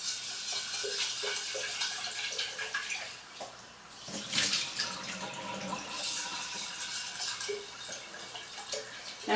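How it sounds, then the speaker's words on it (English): Running water pours into a glass jar of sprouting seeds, filling it halfway with a steady, close splashing rush that swells briefly in the middle, with no voices. "fill the jar about halfway"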